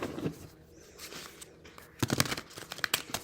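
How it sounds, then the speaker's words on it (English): Tarot cards being riffle shuffled by hand: soft crackling and papery rustling, close and fairly quiet, ending in a quick run of sharp flutters as the deck riffles. "let me ruffle shuffle the tarot"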